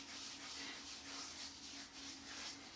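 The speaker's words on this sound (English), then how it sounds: "Then you rub it right onto your face" Hands rub lathered shave soap over a bearded face in a continuous, soft, hissing scrub with a gentle swelling rhythm, close and fairly quiet.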